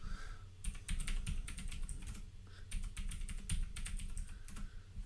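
Keys on a computer keyboard tapped out in quick bursts while entering an administrator password, crisp close clicks with short pauses between runs.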